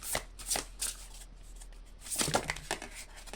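Tarot cards are shuffled by hand, giving several soft riffling bursts close up, then a pause before another shuffle, with no talking.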